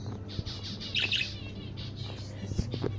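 Inside a bird store, caged birds chirp and tweet in short repeated calls, moderately near, over a low steady indoor hum.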